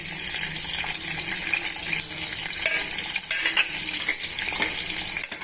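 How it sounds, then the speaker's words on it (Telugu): Onion and green chili pieces fry in hot oil for a pressure-cooker chicken curry, making a loud, continuous sizzling hiss with occasional light clinks and stirring scrapes from close by, and no one speaking. "కాగిన తర్వాత ఉల్లిపాయ ముక్కలు పచ్చిమిరపకాయ ముక్కలు వేస్తున్నాను"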